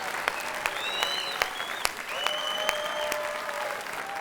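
A studio audience applauds on the Armenian Saturday-evening TV show Arajin Akumb, steady broadband clapping with sharp individual claps standing out, while whistle-like tones ring intermittently above it.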